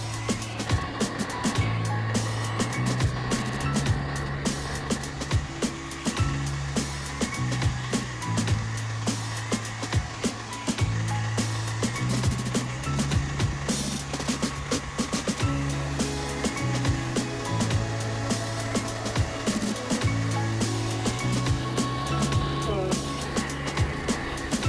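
Hair dryer blowing steadily while heating badges on a Hyundai Genesis to remove them, a continuous airy whir heard alongside background music.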